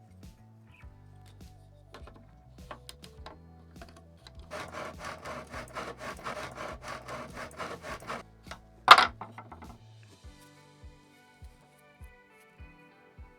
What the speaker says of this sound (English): let's see how we fare with just the inexpensive miter box